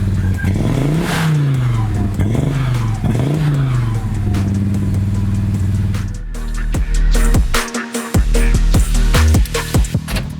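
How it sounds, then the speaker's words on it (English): Audi Quattro engine revving up and down in repeated pulls with a slight misfire, loud and close, rising and falling sweeps, then choppier bursts and pops toward the end. "I hear a little misfire."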